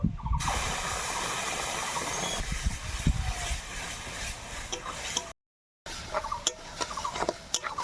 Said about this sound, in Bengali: পটল ভাজার পরে কড়াইয়ে তেল রয়েছে, ওই তেলেই ফোড়ন দেব।